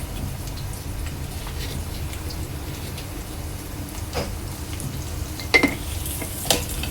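Onion with garlic and salt fries in oil for a prawn curry, a constant soft hiss of sizzling with a couple of sharp utensil clinks near the end, close and steady without speech.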